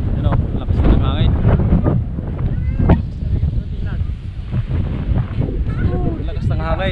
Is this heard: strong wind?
yes